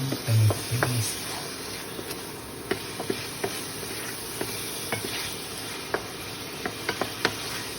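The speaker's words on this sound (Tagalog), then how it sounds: "Ihalo uli natin ito mga kaulam ideas para lahat ng ating karne at magisa ay malagyan na ng tomato paste." Pork being stirred with tomato paste in a pan for mechado, with a soft steady sizzle under repeated light scrapes and taps of the utensil against the pan.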